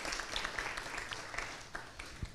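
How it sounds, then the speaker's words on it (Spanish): Congregation applause at a church service, faint scattered clapping with a few distinct louder claps, thinning out over a couple of seconds. "Dale un aplauso fuerte al Señor."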